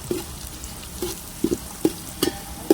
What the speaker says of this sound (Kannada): ಈಗ ಇದನ್ನು ಚೆನ್ನಾಗಿ ಮಿಕ್ಸ್ ಮಾಡ್ಕೋಬೇಕು.